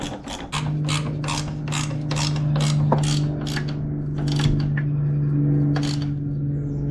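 Bolts being tightened with a ratchet on a GPR steering stabilizer for a Ninja ZX6R: a rapid series of close ratcheting clicks over a steady low hum, pausing briefly before another short run.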